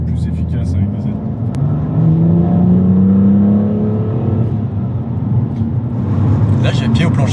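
A 2018 BMW M2 Competition accelerating at full throttle in fifth gear, the engine note rising steadily in pitch from inside the cabin, with voices talking over the drone.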